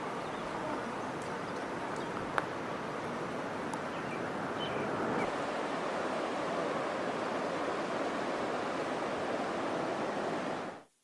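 The Kaweah River rushes steadily at Three Rivers, a broad, even roar of flowing water that holds constant throughout, with a few faint clicks on top before it cuts off.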